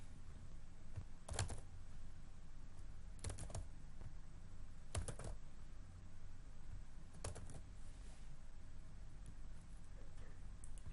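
Four short bursts of keypresses on a computer keyboard, typing in MS Word, each lasting about half a second and separated by quiet gaps, faint and close against a low room hum.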